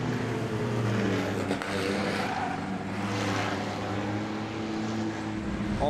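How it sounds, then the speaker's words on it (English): A stockcar engine roars at Stratford Speedway in New Zealand, a loud, continuous, sustained drone from a car pushed hard around the track, steady throughout with only slight swells in pitch. "Listen to the car."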